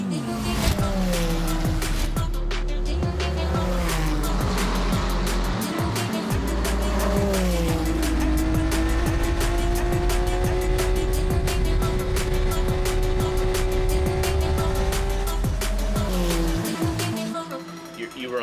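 A McLaren Artura Trophy Evo race car lapping Road Atlanta, its engine howling loudly and steadily from close by with rising and falling revs through gear changes and braking, alongside rattling and bumps over the track.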